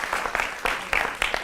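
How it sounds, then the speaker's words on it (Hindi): Studio audience applause during a televised Hindi political debate show, a steady close wash of clapping with a few louder surges, running throughout with no speech on top. "जोरदार तालियों से अभिनंदन करिए महंत जी का।"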